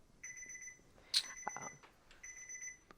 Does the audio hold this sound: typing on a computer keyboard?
no